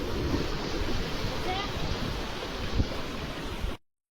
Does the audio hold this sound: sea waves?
yes